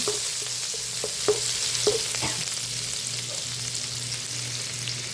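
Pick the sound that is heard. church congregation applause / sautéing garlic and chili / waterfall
sautéing garlic and chili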